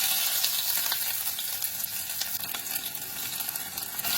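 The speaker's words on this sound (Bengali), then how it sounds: "এবার ফোড়নটা একটুখানি ভেজে নিয়ে" Ginger paste, radhuni seeds and a torn bay leaf sizzle in hot oil as a spice tempering for a bottle gourd dish, a steady crackling fry with small pops, fairly quiet and close.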